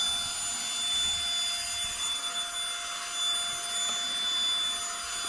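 A Beldray cordless vacuum cleaner from Aldi runs on its turbo setting, a steady high-pitched whirring whine with a constant tonal hum that persists throughout, nearby and moderately loud, with no talking.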